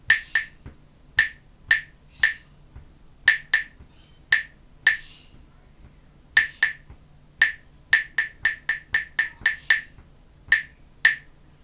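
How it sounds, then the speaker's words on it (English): Hands clap out a dotted rhythm in compound time, with sharp, close claps in uneven groups and quicker runs of even claps near the end, and no talking. "Let's try clapping that rhythm together now."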